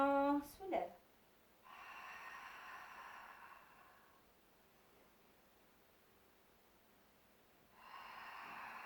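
Long, airy breaths during a Pilates exercise sound close and soft as two drawn-out exhalations separated by a quiet pause, following a brief spoken instruction at the start.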